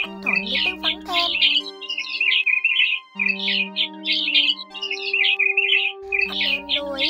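A migratory white-headed starling sings a recorded call of bright, rapid chirps and warbling phrases, loud and continuous over a steady tonal drone, with a short pause midway.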